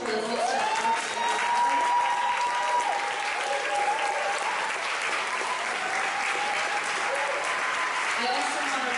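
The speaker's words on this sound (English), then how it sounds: "just a round of applause for the folks that have worked together." Sustained applause from a gathered audience, an even, moderately distant wash of clapping throughout with a speaker's voice running over it.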